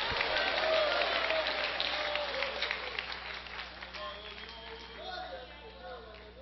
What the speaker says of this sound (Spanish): Dele palmas al Señor Jesucristo.